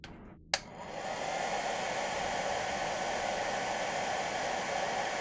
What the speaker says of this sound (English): I'm gonna hit it with a hairdryer.